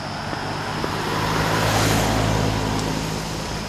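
A car passes on a dark road at night, a broad engine and tire roar that swells toward the middle and fades again, heard alone without talk.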